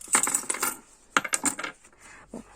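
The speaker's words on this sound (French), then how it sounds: "j'ai un petit peu de monnaie là-dedans" Coins jingle and clink inside a paper envelope in two short bursts of handling, close and crisp, followed by a brief faint rattle.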